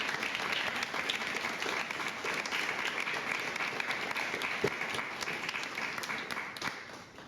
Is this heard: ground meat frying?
no